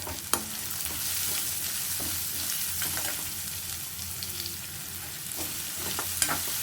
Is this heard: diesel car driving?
no